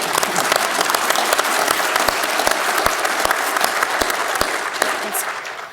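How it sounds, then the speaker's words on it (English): Steady, dense audience applause at a neurodiversity-in-the-workplace summit session, with many hands clapping at once; it holds loud and even throughout, with a few sharper claps standing out near the end. "Can we give a little round of applause for that, please?"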